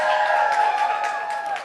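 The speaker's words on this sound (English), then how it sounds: "Can you guys all give them a big clap" An audience applauds the team behind an event at a hair club gathering, with dense, steady clapping that carries evenly through the whole short stretch.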